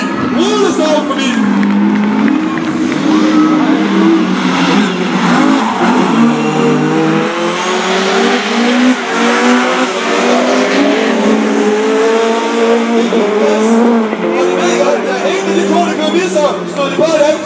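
Race cars driving close together in a Danish championship heat at Sæby, engines roaring and revving loudly with shifting pitch, under continuous excited commentary and a crowd in the background.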